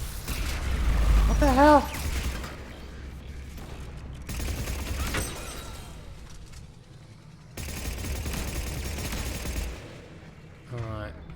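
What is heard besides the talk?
weapons firing in the video game Mass Effect 3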